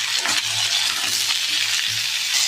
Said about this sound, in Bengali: ওই তেলের মধ্যে এবার আলুগুলো একটু ভেজে নেবো।